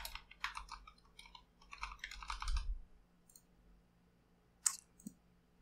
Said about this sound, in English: Next is just to click on save